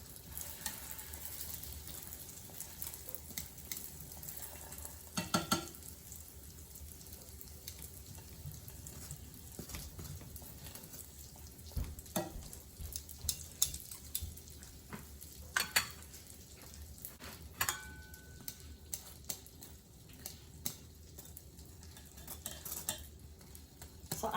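Martabak Telur, a folded egg-filled pastry, frying in a pan: a continuous close sizzle with scattered crackles, utensil scrapes and taps throughout, and no talking.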